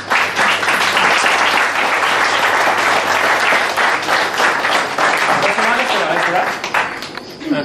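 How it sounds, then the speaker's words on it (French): An audience claps for a participant at an improvised hypnosis show, a loud, dense burst of applause that keeps up steadily before tapering off at the end, with a voice speaking underneath. "on peut l'applaudir pour elle"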